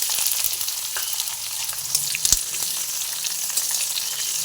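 Chopped onions go into hot oil already holding fried bay leaves, cumin seeds and black cumin, giving a steady close sizzle with a faint clink near the middle and no voices.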